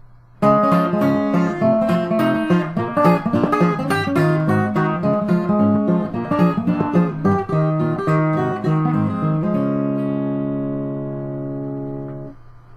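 Fingerpicked acoustic guitar plays a bouncy, syncopated ragtime blues passage with a steady bass and thumb rolls, closing on a ringing chord that slowly fades out.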